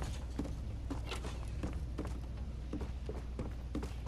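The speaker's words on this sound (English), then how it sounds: "It sounds like footsteps." Footsteps in the video game Phasmophobia, a steady series of soft, muffled thuds at a walking pace, faint against a low background hum.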